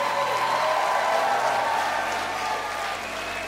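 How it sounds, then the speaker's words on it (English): A church congregation claps after a prayer during a sermon. The applause is even and moderately loud at first, then gradually softens and thins out. "give him a great big hand clap"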